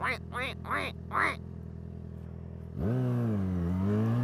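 Ducks quack in four quick harsh bursts close by, then a moment of quiet before a car engine starts droning loudly nearby, covering the rest.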